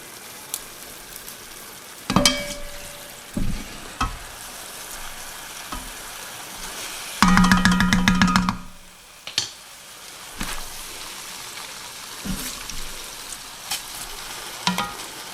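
Spaghetti noodles tossed and stirred through chunky tomato sauce in a pan, heard as scattered utensil scrapes and clacks over a soft sizzle, with one louder, denser burst of stirring partway through.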